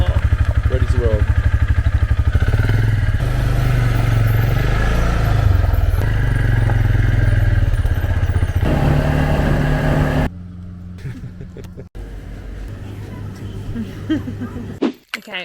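An ATV engine drones steadily and loudly while riding on Paxos, with wind buffeting and some rattling. Midway through, the engine drops to a quieter, lower idle.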